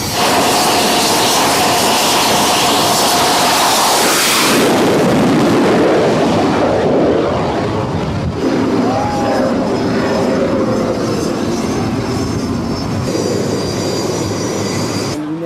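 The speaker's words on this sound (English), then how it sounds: "you're going to be that close to the planes taking off and landing" A loud jet engine roars continuously nearby as airplanes take off, a heavy broadband rumble that shifts in pitch and slowly eases.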